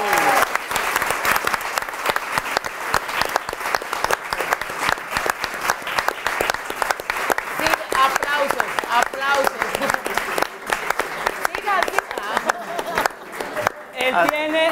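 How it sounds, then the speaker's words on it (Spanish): A live comedy show audience breaks into long, loud applause with crisp individual claps audible throughout, some cheering voices mixed in, and the clapping thins briefly near the end. "Un fuerte aplauso"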